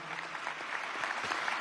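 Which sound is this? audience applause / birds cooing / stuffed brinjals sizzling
audience applause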